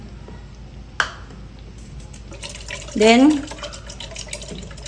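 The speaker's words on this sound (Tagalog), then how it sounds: "Lalagyan ko ng konting tubig yung ating lata kasi sayang." Water is splashed into an empty can while champorado cooks, a short gurgling pour with a rising filling tone; someone speaks briefly and a sharp clink sounds just before.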